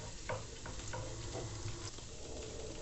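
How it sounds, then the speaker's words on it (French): Garlic fries in hot oil with a steady soft sizzle, broken by a few light scraping knocks as it is stirred in the pan, close and quiet with no talking. "je laisse bien chauffer l'huile et j'y ajoute les ails. Il faudra bien mélanger pour les faire dorer."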